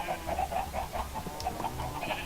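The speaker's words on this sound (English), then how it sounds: "Let's go listen to the chickens" Chickens in Minecraft clucking on a farm, a steady run of short, repeated clucks close by, with a low background hum and no talking.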